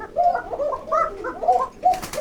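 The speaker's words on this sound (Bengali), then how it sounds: "আর এটা খাঁচা নাম্বার 36, আর এটাও দেখেন কেমন ডাকে।" Pigeons of the Lahori, Mundian and Modena breeds coo inside a loft cage at a pigeon farm, a series of close, rolling, throaty calls repeating in short bursts with no talking.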